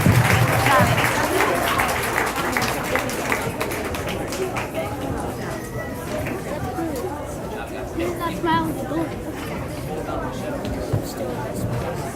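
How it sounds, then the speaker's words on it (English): Applause at a school graduation ceremony for elementary classes, clapping mixed with crowd chatter and hubbub, steady and moderately loud throughout. "Let's give a big round of applause."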